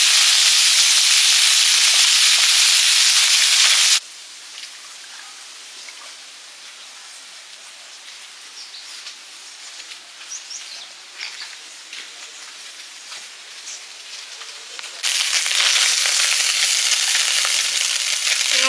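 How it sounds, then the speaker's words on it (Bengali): Small mourala and puti fish fry in oil in a hot wok and are stirred: a loud, steady sizzling hiss drops sharply to quieter crackling with scattered spatters, then swells loud again, no talking. "কড়াটা বেশ গরম হয়ে গেছে, সঙ্গে সঙ্গে মাছগুলোকে নাড়া যাচ্ছে, নেড়ে দিচ্ছে"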